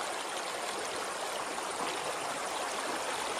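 A stream rushes in a steady, loud, broadband wash of flowing water, close by, where chicken is being washed in the current, with no talk.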